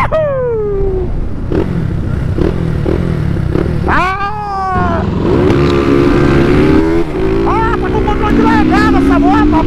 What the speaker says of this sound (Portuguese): Eu vou dar uma puxadinha dentro da cidade só para ver a reação da moto.